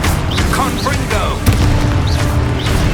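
Fire spell blast from the Confringo charm in Hogwarts Legacy, a single sharp bang over a dense, continuous bed of game noise, with faint voice-like chirps mixed into the background.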